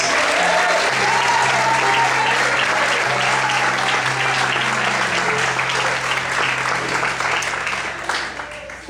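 A church congregation applauds loudly and steadily during a Portuguese-language sermon, a dense wash of clapping that tapers off near the end.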